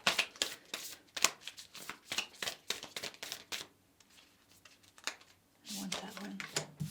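Tarot cards are handled and shuffled in a rapid series of crisp flicks and riffles that come in bursts, with a short pause before a final flurry, while a voice talks.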